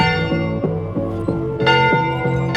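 A village alarm bell rings repeatedly, a close metallic clang with long sustained overtones, struck about every half-second across the stretch with a steady rhythm.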